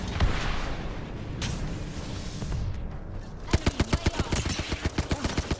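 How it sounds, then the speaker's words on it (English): Gunfire in the battle-royale game Apex Legends during a tournament match: a scattered stretch of shots, then a rapid automatic burst of evenly spaced sharp cracks, loud and close in the mix. "Shots coming in here from Zeppa from the second floor."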